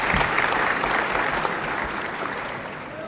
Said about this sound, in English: can we give a round of applause and thank her very much for this position